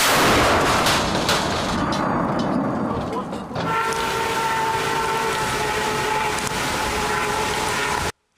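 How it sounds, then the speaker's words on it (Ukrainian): A loud, continuous roaring blast from an artillery gun firing fills the clip, with a sustained mechanical drone after it, then an abrupt cutoff. The sound is close and heavy. "Гармата постріл!"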